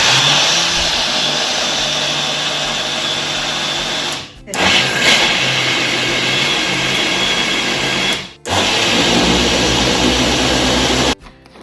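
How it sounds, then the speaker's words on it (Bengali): A blender whirs loudly at close range, blending ingredients for a recipe at an Indian food truck, running in three steady bursts with short pauses between them. "আসো ব্লেন্ড করো। ব্লেন্ডি ব্লেন্ড।"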